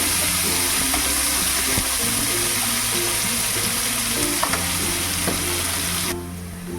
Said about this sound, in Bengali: দেখো পেঁয়াজটাকে ভালো করে ভেজে নিলাম